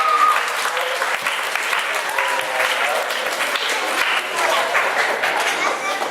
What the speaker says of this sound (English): Let's give Caitlin a nice little round of applause.